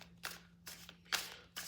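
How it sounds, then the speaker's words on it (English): Tarot cards being shuffled in four short riffling bursts with brief pauses between, quiet and close, with a faint steady hum underneath. "Last shuffle."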